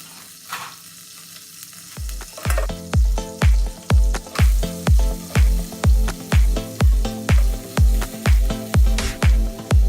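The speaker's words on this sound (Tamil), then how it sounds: "அதில் ஆயில் ப்ளஸ் பட்டர் எடுத்துட்டு வெங்காயம் போட்டு தாளிக்கணும்" Loud rhythmic sizzling as onions are stirred in hot oil and butter, repeating scrape-and-hiss pulses about twice a second, close and steady.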